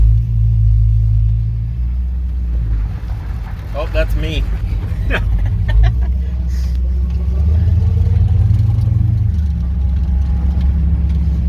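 A classic truck's cammed small-block Chevy V8, likely a 350, starts and idles with a deep, throaty rumble, loud and close, while someone speaks briefly over it.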